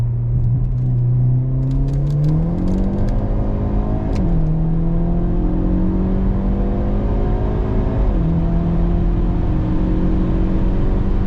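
A Hyundai Elantra N pulls hard at wide open throttle, its turbocharged engine droning loud and close as the pitch climbs, drops briefly at two quick upshifts, then keeps rising.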